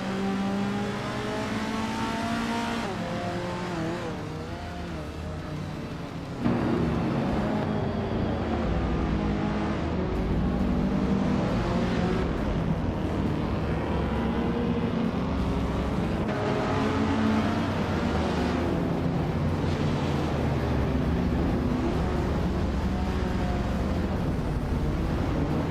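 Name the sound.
vintage cars racing at Los Arcos Rallycross, including 1966 Lotus Cortina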